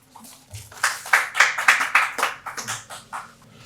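An audience at a national session of an international Iqbal conference bursts into sustained applause, a dense rippling clatter of many hands swelling quickly, holding steady for a few seconds, then thinning out.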